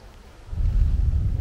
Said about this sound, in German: einen Donner haben wir auch schon